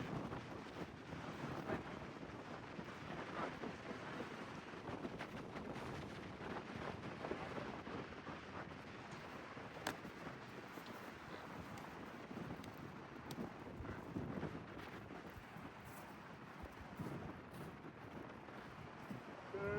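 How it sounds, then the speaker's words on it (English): Strong wind roars steadily across an outdoor football game, buffeting the microphone with a loud, continuous rush that never lets up. "The wind is strong."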